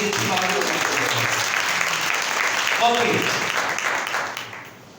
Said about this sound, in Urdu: زوردار تالیاں بجائیں